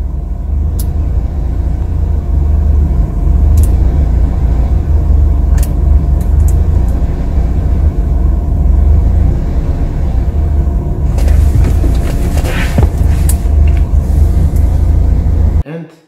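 A Mercedes with KE-Jetronic fuel injection idles, heard from inside the car as a loud, steady low rumble that holds throughout. Faint clicks and a brief rattle sit on top before it cuts off at the end.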